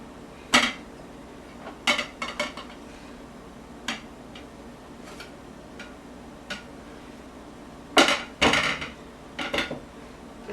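A plate is set on a pan of Lebanese knafeh na'ama and the pan is flipped over onto it, making scattered sharp clinks and clatters, with busy clusters near the start and toward the end amid quiet.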